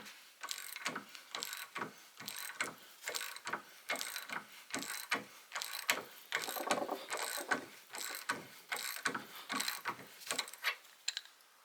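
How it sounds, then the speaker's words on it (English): A Bonney TT707 3/8-inch drive ratchet wrench is worked to loosen, giving a close, steady series of rhythmic clicking strokes, about twenty in a row, with no talk. "This Bonney TT707 3/8 drive ratchet had an interesting mechanism"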